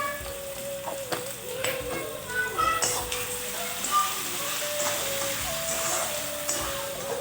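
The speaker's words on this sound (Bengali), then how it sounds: "এখানে পেঁয়াজটা নর্মাল আছে খুব সুন্দরভাবে ভেজে নিতে হবে" Onion frying in a pan with a little salt and sugar added, a soft, steady sizzle with occasional stirring clinks, fairly close and moderately loud.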